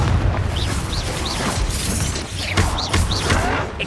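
A Confringo fire spell erupts in the Hogwarts Legacy video game, a loud booming blast within a dense, continuous din of game combat effects.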